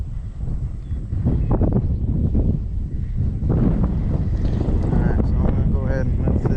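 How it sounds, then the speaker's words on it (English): Wind gusting over a lake while bass fishing, a steady loud rush buffeting the microphone throughout, with faint voice-like sounds and possible water or boat noise beneath. "This wind's starting to pick up a little bit."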